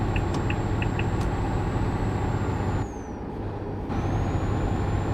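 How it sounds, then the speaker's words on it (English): Steady rumble of a truck engine in Euro Truck Simulator 2, with a long hiss of air brakes releasing partway through as the engine note dips and recovers. "is the truck noises, are they too loud?"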